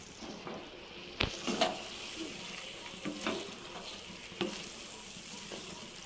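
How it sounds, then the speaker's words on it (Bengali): Potatoes stir-fried with spice masala for egg biryani sizzle steadily in hot oil, with a few sharp scraping knocks of the spatula against the pan, close and moderately quiet, no talking. "দিয়ে দেওয়া হলো, এর ভালো করে মশলার সাথে আলু কষানো হবে।"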